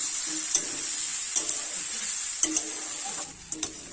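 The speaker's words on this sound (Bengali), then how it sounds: "মশলার সাথে আলু মাংস সব কিন্তু ভালোভাবে কষাই করে নিতে হবে" Potatoes and meat frying with spices in a pan, giving a constant hissing sizzle with a few sharp stirring knocks and scrapes at irregular intervals, close by and with no talk.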